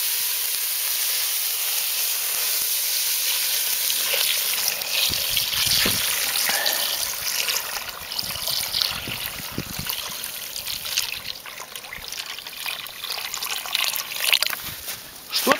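Water is poured into a pot of sizzling fried meat, brisket and ribs, for kulesh, a thick millet porridge-soup. A steady trickle runs over hissing and crackling that grows busier as it goes.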